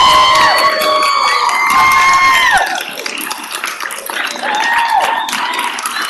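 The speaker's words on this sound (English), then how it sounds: "there are a lot of claps" Audience at a Memphis city council meeting breaking into cheers and scattered clapping, loud, raised voices and whoops rising over the claps, then settling into a noisier murmuring crowd with more shouts.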